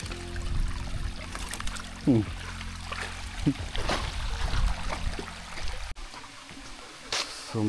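Water flowing near a waterfall at Gandikota, a steady broadband rush with a few faint voices and scattered bumps in the background.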